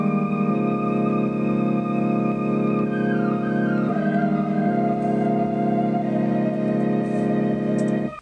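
Synth lead split across two channels, one held in mono with gliding, slidey notes and the other letting notes overlap polyphonically, playing a steady sustained melody with no other sounds until it cuts off near the end.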